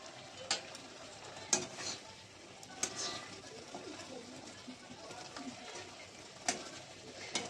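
Dried Phesa fish curry with cumin powder being stirred slowly in a pan, giving a soft steady sizzle with occasional sharper scrapes and clicks of the spoon against the pan, heard fairly close and without talk.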